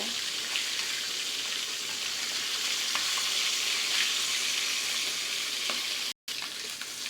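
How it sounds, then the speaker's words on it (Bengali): A fish flipped over in a frying pan keeps up a loud, continuous sizzle, with faint clicks from the pan and a brief dropout near the end. "মাছটা ভাজা হয়ে গেছে, এখন উল্টিয়ে দেব।"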